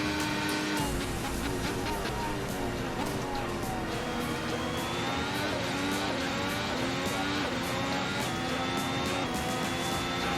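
High-revving F1 car engine in a racing video game, running steadily in seventh gear while sitting in another car's slipstream on a Qatar Grand Prix circuit, a loud continuous whine with shifting pitch throughout.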